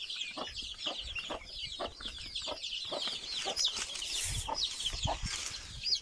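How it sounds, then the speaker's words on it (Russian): Young chickens peep and cluck continuously in a busy chorus, close by, with scratchy shuffling underneath. "А здесь у нас цыплята с Нижнего Новгорода"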